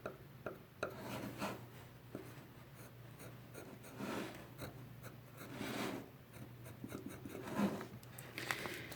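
A tool trims and shapes a clay doll, making soft intermittent scraping and rasping strokes at close range, with brief pauses between passes and no voices.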